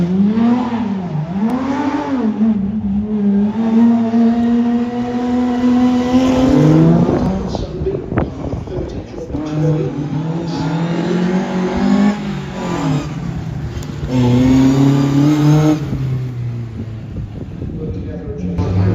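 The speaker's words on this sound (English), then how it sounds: "we've got the cars now coming through, running the stage here at the Staffordshire Motorsport Show" Rally cars run a stage at the Staffordshire Motorsport Show: engines rev loudly and rise in pitch through the gears as cars pass close, and a voice talks over parts of the run.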